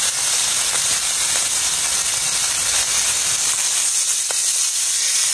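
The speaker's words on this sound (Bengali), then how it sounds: "কিলা মাছ ভাজা।" Fish frying in a pan, a steady close hiss and sizzle with faint sputters and pops throughout.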